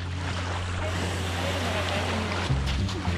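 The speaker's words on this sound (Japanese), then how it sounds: "あ、波が強い。 高い。" Strong, high sea waves surge around a small island off Onomichi, a continuous wash of surf and wind buffeting the microphone, with a heavier thump of water near the end.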